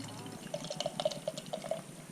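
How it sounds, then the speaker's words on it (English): Hop Butcher double IPA pours into a glass with a short run of gurgling, bubbling glugs, close and moderately quiet, lasting about two seconds. "it's pouring like a New England style IPA"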